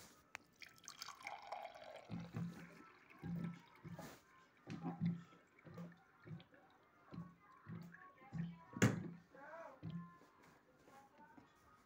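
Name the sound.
pouring water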